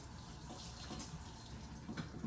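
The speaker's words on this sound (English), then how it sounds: "I'll put a little bit more warm water." Warm water poured into a pizza dough mix, a steady, faint running and splashing stream that continues without a break.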